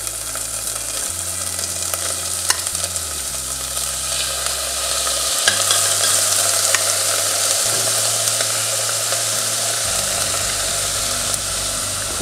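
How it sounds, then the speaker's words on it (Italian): Shallot and beans fry in a pan with a steady, even sizzle that holds close and loud the whole way through, with occasional faint stirring clatter and no talking. "Ecco che lo scalogno è pronto, mettiamo dentro i fagioli, quantità che vogliamo noi."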